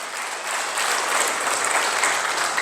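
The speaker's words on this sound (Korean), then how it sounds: "다음 세대들에게 다시 한번 박수를 쳐주세요." An audience at a church event applauds, dense continuous clapping from a large crowd that swells slightly and holds steady throughout.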